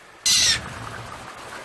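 A pet blue jay gives one loud, harsh, high-pitched call lasting about a third of a second, close by, followed by quiet indoor background.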